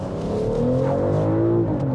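A 2024 BMW X6 xDrive40i engine pulls steadily under load through its M Sport exhaust, pitch rising smoothly over two seconds with a deep, throaty note, close and fairly loud.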